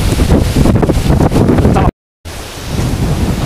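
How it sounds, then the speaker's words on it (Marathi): Strong storm wind blasts outdoors, shaking trees, and roars heavily into the microphone as loud rumbling buffeting. It cuts out in a brief total dropout, then resumes slightly softer. "काय किती वारं जबरदस्त सुटले बघा"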